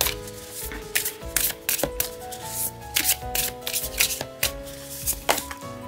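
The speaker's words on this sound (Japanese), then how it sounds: "こちらのオラクルカードから最後1枚いただいて終わりにしたいと思います" Oracle cards shuffled and drawn by hand: quick papery riffles and soft slaps in uneven bursts, close and clear, over a steady bed of soft music.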